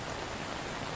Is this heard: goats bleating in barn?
no